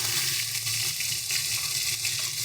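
Onion paste and ginger-green chilli paste hit hot oil in a pan for a yogurt-style katla fish curry, giving a steady, close, loud sizzling hiss that holds unbroken throughout.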